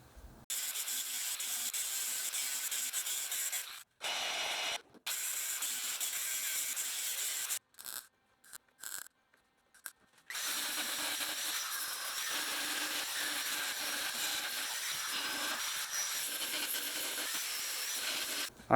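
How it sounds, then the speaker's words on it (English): A grinder works down lead filler on a Subaru-to-Porsche swap car body with a harsh, continuous abrasive hiss. It holds steady for long stretches, with several short pauses midway before a long final pass. "let me grind this thing down"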